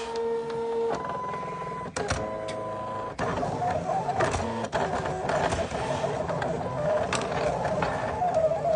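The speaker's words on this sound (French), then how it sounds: "je peux lancer donc ma découpe lame A8, force 30" A Silhouette cutting machine with an A8 blade at force 30 cuts thick 250 g paper, a steady mechanical whir of motor and carriage with rhythmic clicks and pauses as the blade moves.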